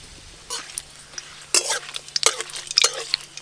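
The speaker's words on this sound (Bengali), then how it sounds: "এখানে আমি গরম মশলা, তেজপাতা আর দুটো শুকনো লঙ্কা ফোড়নে দেব।" Garam masala, bay leaf and dried chillies tempering in hot mustard oil in a pan: light sizzling with sharp bursts of crackle and utensil clinks and scrapes, growing busier partway through.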